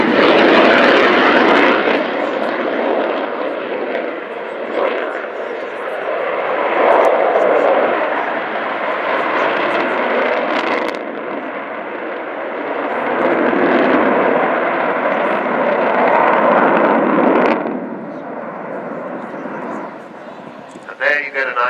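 Avro Vulcan bomber flying at the RIAT 2015 airshow, a loud, sustained roar of jet engines that swells and fades as it manoeuvres, continuous for about twenty seconds.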